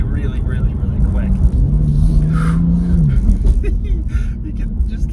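A BMW M2 Competition with a dual-clutch transmission accelerates, its engine a steady low rumble with a brief rising tone, heard from inside the car under continuous talking.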